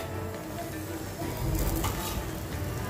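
Cauliflower-stuffed gobi paratha frying in ghee on a pan, a steady close sizzle that swells louder midway.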